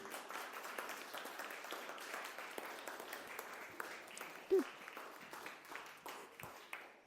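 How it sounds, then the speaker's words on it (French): An audience at a talk in Mons applauds, a soft, even patter of many hands that carries on steadily, fairly distant and quiet, with one brief louder knock partway through. "On peut s'applaudir?"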